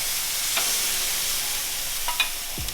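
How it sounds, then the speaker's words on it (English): Pork chops sizzle on a very hot grill, a steady hiss held throughout at moderate level, with a few brief scrapes and clinks of a utensil and no talking. "now that our grill is piping hot, we're gonna throw on these pork chops"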